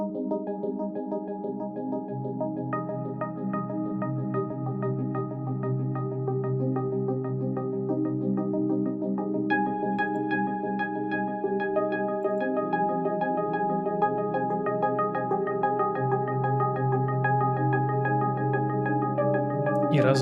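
Ambient synth pad run through delay, reverb and autopan: a soft, sustained chord drifting across the stereo field, its notes shifting a couple of times and faint delayed echoes ringing above it. No one speaks.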